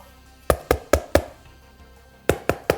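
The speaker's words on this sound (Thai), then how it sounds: "จึงเดินเข้ามาเคาะ" Knuckles rap on the door of a room in a set of sleeping quarters, first four firm close knocks, a pause, then three more in the same quick rhythm, with no talking.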